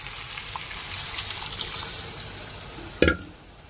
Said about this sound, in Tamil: அதெல்லாம் பூரி மசாலா நல்லா கொதிக்குது.